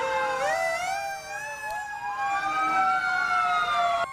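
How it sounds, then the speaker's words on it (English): A fire truck's wailing siren rises and falls continuously, loud and fairly close, sweeping up and down in pitch with no voices. "Flashing lights and sirens."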